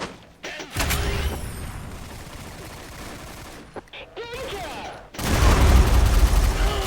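Grenade blasts and bursts of gunfire from the video game XSHOT on a bomb map, loud and dense, with a short lull midway before a heavy burst near the end.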